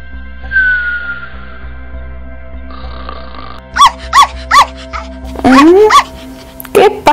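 A pregnant female dog whines and whimpers in high, drawn-out cries late at night, several short yelps in a row, with a person murmuring softly in between.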